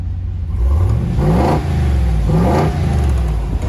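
A truck with a 6.4 Hemi engine, exhaust leak just fixed, revs up twice in close succession, rising to a loud roar each time before settling back to a steady, rumbling idle.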